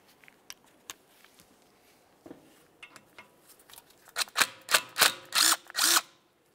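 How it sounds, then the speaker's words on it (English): A Torx bit backs a T27 screw out of a brake assembly on a 2011-2018 Volkswagen Jetta, faint scattered clicks and taps giving way to a few loud, close bursts of grinding power-tool whirring near the end. "we can start removing this T27 screw"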